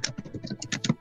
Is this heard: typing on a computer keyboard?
yes